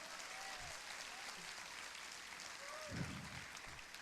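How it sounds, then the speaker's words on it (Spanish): Church congregation applauding during a sermon, a steady broadband wash of clapping held throughout with a faint voice surfacing briefly. "¿Alguien puede darle un aplauso al Señor?"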